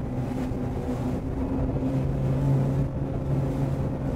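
A boat powered by a Cox CXO 300hp diesel outboard engine accelerates on open water, a steady low engine drone mixed with wind and water rush that stays loud and continuous throughout.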